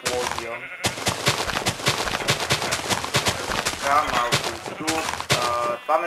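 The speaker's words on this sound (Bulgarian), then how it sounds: "за да все пак да стане готина експлозия" Explosions in the Minecraft video game: a rapid run of sharp blasts and crackling bursts over several seconds, mixed with bleating sheep, loud and dense.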